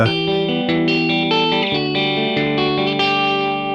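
A 1986 PRS Custom electric guitar plays a clean, sparkly tone: ringing chords and sustained notes strummed steadily at a moderate level, with no talking.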